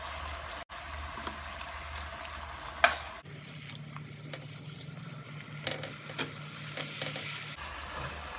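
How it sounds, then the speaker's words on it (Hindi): Spices frying in a pan for spicy buffalo chicken wings, a continuous close sizzle with occasional stirring scrapes and clicks, later joined by a low steady hum. "इन सब चीज़ों को भून लेंगे।"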